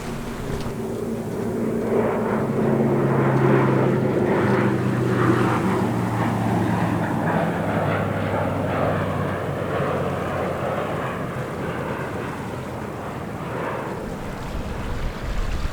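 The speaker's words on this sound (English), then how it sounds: "Huge Hercules military airplane just passed us, very low." A Hercules military propeller airplane roars past very low overhead, its deep engine drone swelling loudly and then slowly fading, with wind and water noise underneath from a sailboat.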